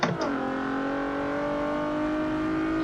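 A stock, untuned car engine in Forza 7 holds a steady, loud drone with strong harmonics after a brief rev at the start, sustained and close with no talk.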